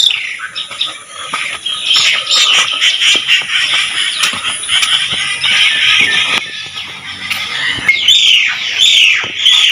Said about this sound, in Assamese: ইমান ভাল লাগিছে চাৰিওফালে চৰাই চিৰিকটিৰ মাত।